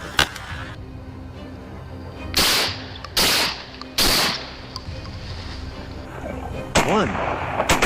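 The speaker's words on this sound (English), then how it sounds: "A deafening gunshot tore through the silence." Several loud, sharp gunshots crack out with short gaps between them over a steady background rumble, each shot sudden and close, during a wild boar hunt on farmland.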